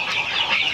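Free-range village chickens clucking nearby in a coop, a short, steady burst of hen vocalisation with no talk.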